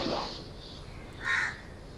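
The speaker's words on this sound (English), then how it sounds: "I hear a bird just crowing in the background" A bird caws in the background, one hoarse call near the start and another louder one later, heard somewhat distant over a low hiss.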